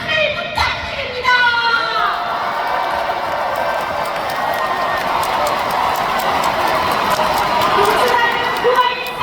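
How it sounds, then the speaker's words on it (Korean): A large crowd at the Democratic Party national convention in the Daejeon Convention Center cheering, shouting and applauding, a loud sustained roar of voices and clapping with a few high whistles or shrieks near the start. "큰 함성과 박수를 부탁드립니다."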